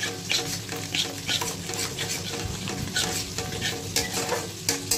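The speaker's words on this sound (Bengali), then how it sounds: "এইভাবে ভালো করে মেশাতে হবে।" A paste being stirred and mixed in a hot pan, with steady scraping strokes over a soft continuous sizzle, close and fairly quiet.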